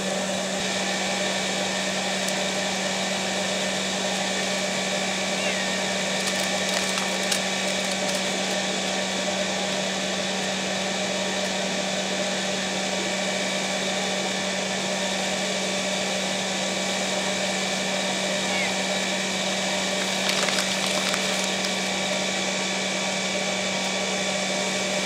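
Blower fan on a homemade trash-burning furnace used for home heating runs as a steady, loud, close whir with a constant hum, unbroken for the whole stretch, with no voices.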